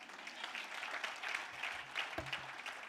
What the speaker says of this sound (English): yes, you can applaud to that.